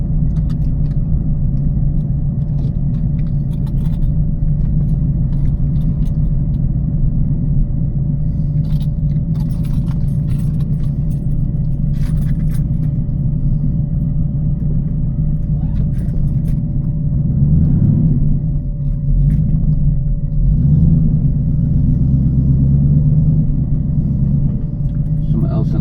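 A TVR Chimaera's engine burbles at idle, a loud, steady low rumble that swells and throbs near the end, with faint jangling in the background.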